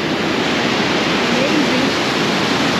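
A waterfall at Aulds Cove roars as a dense, steady rush of falling water, close and loud, filling the scene without a break for a few seconds.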